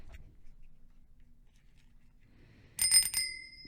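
A single bicycle bell rings near the end, a quick bright trill of a few strikes with a lingering ring, following a quiet stretch of faint room noise.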